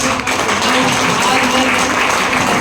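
An audience at a third anniversary gathering in Lucknow applauds together, a dense, steady wash of many hands clapping at once with no pauses, fairly loud throughout.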